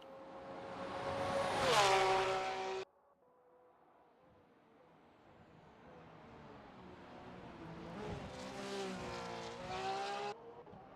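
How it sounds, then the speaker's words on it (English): Porsche GT race car running practice laps at Paul Ricard, a loud engine note rising and falling as it passes, fading out, then building again into a second strong high-revving pass. "making his way around the track for some practice laps in the beautiful Porsche car"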